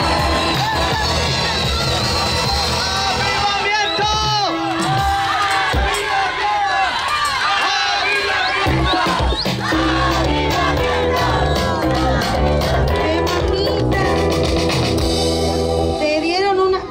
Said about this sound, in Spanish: La barra que grita.